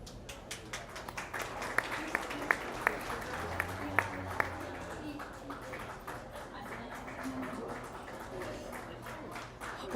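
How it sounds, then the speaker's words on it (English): At a dairy show in a large arena, a crowd gives a scattered round of applause for the heifer winners, with sharper individual claps standing out early before the clapping settles into a softer, steady patter. "please welcome them with a round of applause when I do"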